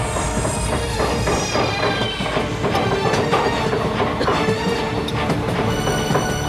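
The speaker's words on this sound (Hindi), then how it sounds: "ट्रेन चल पड़ती है।" A passenger train rolls along with a loud, continuous rumble and rhythmic clattering of wheels over rail joints, with occasional metallic knocks and no voices.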